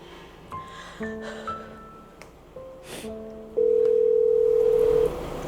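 A steady telephone dial tone hums loudly for about a second and a half while a call is being placed, preceded by brief beeps and softer electronic tones from the phone.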